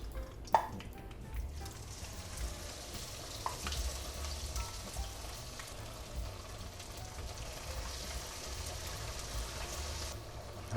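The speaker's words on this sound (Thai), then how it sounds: "เราจะลงหมูลงไปทอดนะครับ" Steady, crackling sizzle of pork belly frying in a hot pan, a soft continuous hiss with a few sharper pops, close and fairly quiet.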